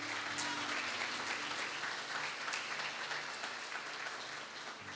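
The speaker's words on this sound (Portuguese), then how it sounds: "Vamos aplaudir o Senhor?" A church congregation claps together after a sermon, a sustained, fairly distant wash of applause lasting several seconds, steady and even with a low hum beneath.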